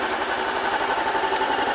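A Honda CB500X two-cylinder parallel twin motorcycle engine idles just after starting, a close, steady, even-pulsed hum with a light mechanical clatter and no talking.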